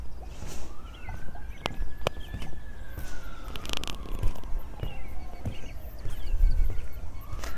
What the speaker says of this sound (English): I can just hear in the distance the sound of some ambulance or police sirens